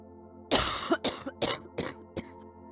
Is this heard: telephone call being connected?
no